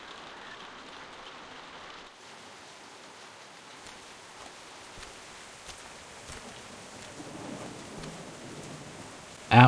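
Continuous soft rain in the video game The Walking Dead: The Telltale Definitive Series patters on surfaces, shifting slightly in texture midway, with a brief louder knock at the very end.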